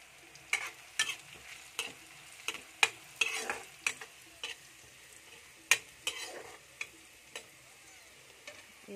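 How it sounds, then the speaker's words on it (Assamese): Onions and turmeric fry in hot oil in a pan, giving a soft steady sizzle under frequent sharp clicks and scrapes from a spoon stirring, close and quiet, with no talking. "আৰু মই ইয়াতে তেলতে এতিয়া এয়া হালধি দি দিম"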